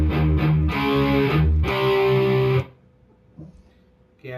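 Distorted electric guitar slowly plays the chord parts of a rhythm riff, loud and close, ringing for about two and a half seconds before cutting to near silence with a faint click.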